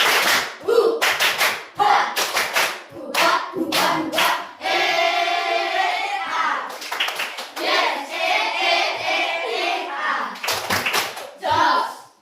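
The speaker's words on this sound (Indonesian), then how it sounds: "mari tepuk semangat dulu. 1, 2, 3. Tepuk semangat" A school class performs a rhythmic spirit clap, bursts of sharp synchronized hand claps in patterned groups alternating with children's chanted voices, loud and close in a classroom.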